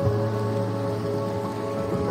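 Heavy rain pours steadily on a rain jacket and the ground on a dangerous mountain trail in the Vosges, a dense, continuous hiss that stays close and loud with no voices.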